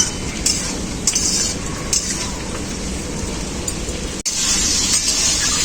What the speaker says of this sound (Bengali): টমেটোগুলো আলুর সাথে হালকা করে নাড়াচাড়া করে নেবো